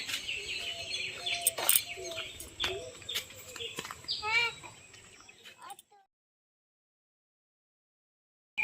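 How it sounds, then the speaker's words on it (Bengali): Ducklings chirp and peep in a rural yard, a busy cluster of small high calls with some clucking-like sounds in the first half before the sound cuts to silence. "দেখ তো হাঁসের বাচ্চাগুলো আসে না বেড়ে গেছে।"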